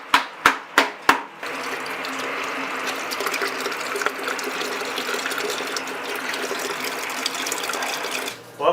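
Water gushes steadily out of a 75-gallon gas water heater tank as it is flushed of sediment, a continuous rushing flow preceded by four sharp knocks at the start.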